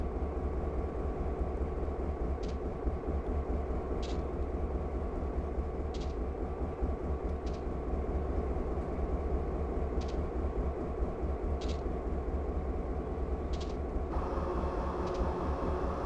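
A GP38-2 diesel locomotive under throttle in Train Simulator 2019 on an Alaska route, a steady low engine drone with faint periodic clicks, fairly even throughout.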